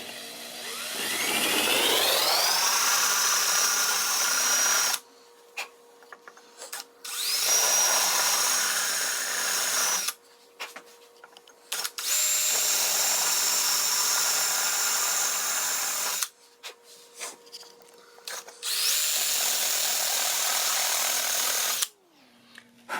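A power drill bores into a glass bottle in several long bursts separated by brief pauses, its pitch sliding up as each run starts, loud and close.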